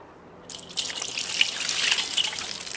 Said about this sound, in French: Et je repasse tout bien à l'eau.